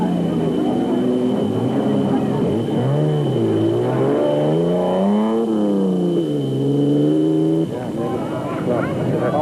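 A growling 5.9-litre Mopar V8 in a Jeep-based rally van arrives during the 2001 Baberspan 500 off-road race. The engine note rises and falls steadily and loudly throughout, with a voice talking over it.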